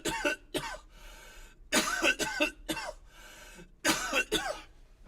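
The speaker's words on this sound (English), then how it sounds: "Me and Dad are both coughing at the same time" Two people cough, a father and his son, in repeated harsh, close bursts that overlap and trade off at an uneven rhythm, with some throat clearing and no speech in between.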